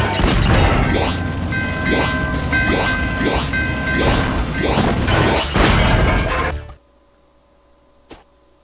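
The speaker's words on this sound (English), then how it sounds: "you have to shoot the TNT crates" TNT crates exploding in Spyro 2: Ripto's Rage, in the Autumn Plains level: a rapid run of loud booming blasts and crashes at a steady rhythm, then abrupt near-silence broken by one faint click.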